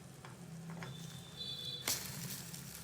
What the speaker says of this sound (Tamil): இப்போ அந்த பக்கம் திருப்பி போட்டு ஃப்ரை பண்ணலாம்